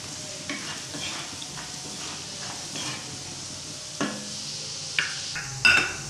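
Spatula working salt, red chilli and coriander powders through a pan for a tinda vegetable dish: gentle frying sizzle under repeated scraping strokes and a few sharper metallic knocks toward the end, with no voices.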